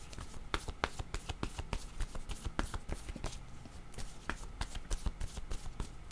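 A deck of tarot cards being shuffled up close, with brisk repeated riffles and snapping flicks that come in quick irregular bursts, and no one speaking.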